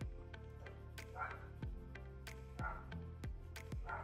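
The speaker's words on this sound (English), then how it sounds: "Don't mind the dog." A dog barks and yips several times in short, fairly loud bursts spread irregularly across the clip, over a steady indoor background with no talk.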